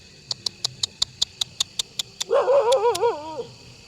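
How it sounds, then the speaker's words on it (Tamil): A dog on a street outside houses gives a run of about a dozen evenly spaced sharp yips, then a longer wavering whine, near and fairly clear with no talk. "நாய் ஒன்று வருது, தெரியுதுங்களா உங்களுக்கு?"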